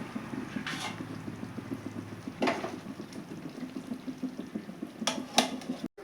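Brinjal curry simmers in a covered pan on the stove, a quiet, steady low bubbling with a few soft clicks and brief hissy bursts scattered through it.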